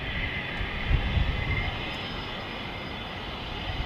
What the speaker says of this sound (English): I think someone's taxiing out.